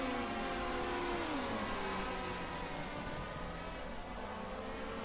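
Race cars, among them a BMW 2002, roar past on a track during a 1979 DRM Division 2 round at the ADAC Bilstein Super Sprint, a loud, continuous engine drone with pitch sliding downward as cars pass.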